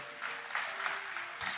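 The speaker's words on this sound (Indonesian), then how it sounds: "Tepuk tangan buat Tuhan Yesus." A church congregation at a Sunday service claps together in a short, dense burst of applause, steady and fairly close, with no voice over it.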